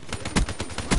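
Enemy gunfire in Call of Duty Black Ops 3, a rapid run of loud, close bursts pulsing about every quarter second, with no talking over it.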